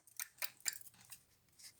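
Several crisp snips of scissors cutting, close and quiet, in an irregular rhythm with short pauses between cuts.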